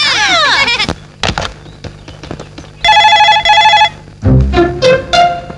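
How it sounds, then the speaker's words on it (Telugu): A telephone rings in a Telugu movie scene: one loud burst of rapid trilling rings stands out among other brief, busy sounds before and after it. "రింగ్ అవుతుందిరా"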